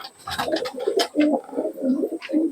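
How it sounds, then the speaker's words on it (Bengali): Giribaj pigeons, short-sized birds at a pigeon sale, give repeated throaty coos in an uneven rhythm, close and fairly loud, with soft rustling between calls. "গিরিবাজ কবুতর এখন শর্ট সাইজ কবুতর দেখুন"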